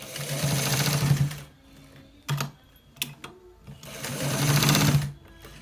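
A sewing machine stitches a pair neck design on fabric in two steady, fast-running bursts, with brief clicks and handling of the cloth in the pause between them.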